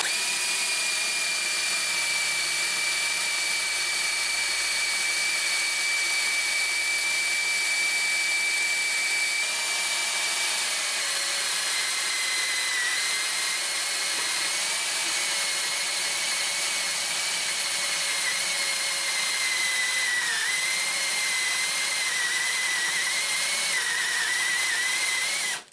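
A power drill runs continuously near a Drill Doctor 750x bit sharpener, a steady high-pitched motor whine that wavers slightly in pitch over a long stretch with no pauses.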